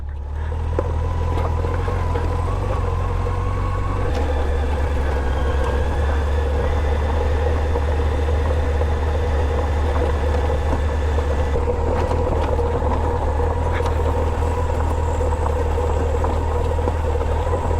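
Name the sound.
700-pound motorcycle riding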